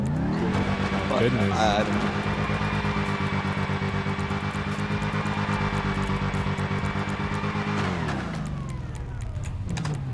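A car engine in GTA 5 roleplay revs and rumbles steadily and loudly the whole way through, easing near the end, while several people talk over it.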